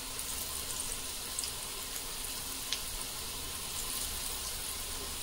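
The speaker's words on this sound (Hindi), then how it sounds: "गैस को हाई करके ही इसको तलना है।" Raw potato pakoras deep frying in hot oil over high heat, a steady close hiss and crackle of bubbling oil with small pops, no talking.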